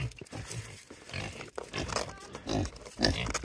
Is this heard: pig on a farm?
yes